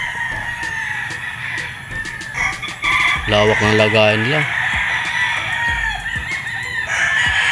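A rooster crows loudly and close at a Firebird gamefarm among clucking chickens and other fowl, while someone talks over the background of birds.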